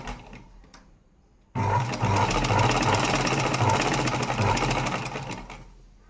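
A sewing machine runs fast and loud while stitching gathers in fabric, its rapid rhythmic chatter starting abruptly and continuing for about four seconds before slowing and fading out.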